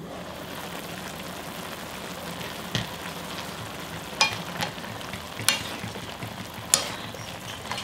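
Aged kimchi stir-fries and simmers in a pot, giving a steady bubbling sizzle with occasional louder clacks of stirring over the background, close and continuous without talk.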